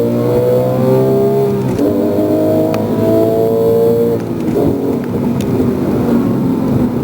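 A Porsche 911 GT3 engine revs hard and climbs through the gears, the roar rising in pitch with each shift, loud and close throughout.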